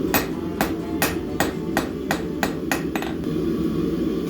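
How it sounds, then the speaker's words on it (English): Steady hammer blows ring out in an even rhythm as a blacksmith strikes hot metal on an anvil with the flat end of the hammer, about eight sharp metallic strikes close up, then the hammering stops. "using the flat end on the hammer"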